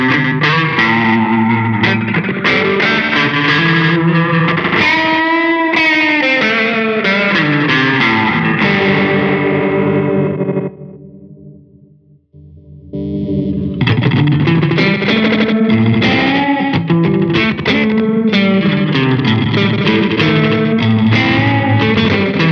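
Electric guitar through the fuzz effect of a Hologram Chroma Console pedal, thick and loud with sustained distorted chords and bends, a brief near-silent gap midway before the playing resumes at full level.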